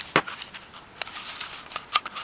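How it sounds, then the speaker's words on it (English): A strip of tape being pulled and applied to a crystal radio coil form, heard as a few short, close, crisp tearing and crackling bursts in a quiet room. "First thing I do is I put on a strip of tape."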